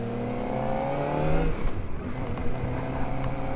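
A Kawasaki Ninja ZX-4RR sport motorcycle with its stock exhaust revs close by, a loud rising engine whine that briefly drops and then climbs again, heard alone without talk.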